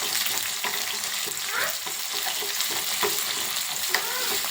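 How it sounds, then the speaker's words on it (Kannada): Food frying in a pan, a constant loud sizzle with scraping stir strokes and occasional clinks of a utensil against the pan, close up, with no talking. "ಇದು ಇವಾಗ ಚೆನ್ನಾಗಿ ಫ್ರೈ ಆಗಲಿ ಗೈಸ್."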